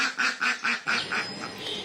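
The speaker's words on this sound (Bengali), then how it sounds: "সকালে ভোরে সে আমাদের হাঁসগুলোকে ডাকতে থাকে।" A lone domestic duck calls at dawn, giving a run of five or six loud, evenly spaced nasal quacks close by, the last ones trailing off softer.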